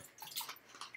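Liquid pours out of a container after a shake test of Majesta Easy Flush toilet paper dissolving in water, giving a short, faint, splashy trickle with small drips.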